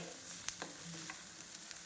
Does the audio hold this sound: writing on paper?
no